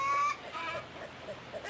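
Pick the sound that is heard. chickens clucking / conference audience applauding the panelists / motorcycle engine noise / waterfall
chickens clucking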